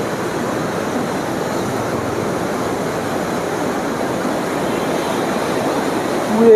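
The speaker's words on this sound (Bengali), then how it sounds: "এই জায়গাটা আছে এগারোটা গেট এগারোটা গেট থেকে কিন্তু এরকম বিভৎস জল কিন্তু যাচ্ছে" Heavy water pours through the eleven open gates of Farakka Barrage, a steady, loud, broadband roar like a waterfall that holds constant throughout with no pauses.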